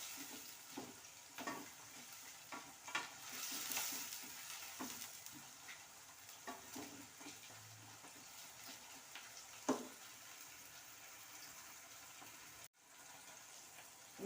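Tomatoes frying in a pan give a faint, low hiss broken by scattered spatula scrapes and taps across the whole stretch, quiet and close, with no voices.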